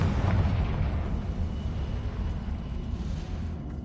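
A Confringo spell blast in Hogwarts Legacy, a loud booming explosion with a sharp onset that rumbles on as a dense, low roar for several seconds, with no talk over it.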